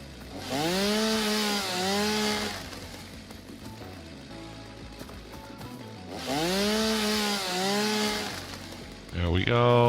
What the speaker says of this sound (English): Get out our chainsaw.